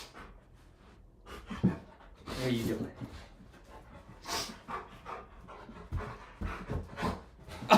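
An excited dog pants rapidly and lets out small whimpers close by, with breathy bursts and shuffling, while a person speaks briefly over it.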